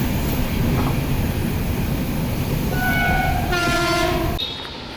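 A train arrives at Ernakulam station, its loud rumble of wheels and cars joined by a long horn blast that sounds near the end before the noise suddenly cuts away.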